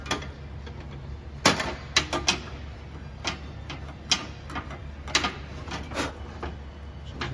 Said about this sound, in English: before you flare the line, we're gonna have to ream this opening here